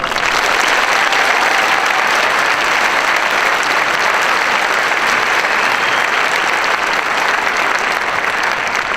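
Sustained, loud applause fills a hall as the audience at the Park University 2011 commencement claps steadily for newly conferred master's degree graduates, with a dense, even wash of clapping throughout.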